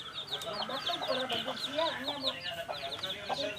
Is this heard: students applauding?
no